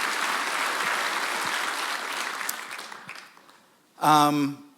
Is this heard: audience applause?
yes